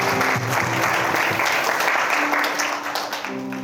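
A church congregation at a youth service claps steadily in sustained, dense applause, with a soft keyboard or organ tone held underneath throughout.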